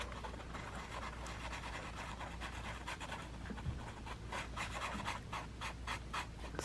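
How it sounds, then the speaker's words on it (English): Abrasive sanding on a sculpted statue test piece over art card, a soft close rasping scratch in quick repeated strokes, fairly quiet and without talk. "see how well it sands down"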